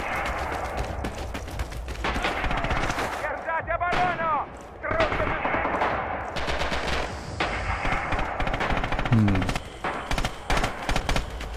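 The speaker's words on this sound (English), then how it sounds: "Not the most quiet gun as possible." Rapid gunfire from a gun in Red Orchestra 2 rattles loud and close in dense bursts, with brief gaps, some whistling tones and a low thump, while voices come and go underneath.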